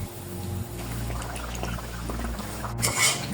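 Pitha cakes frying in hot oil, a steady close bubbling sizzle with small crackles and a brief brighter spatter near the end.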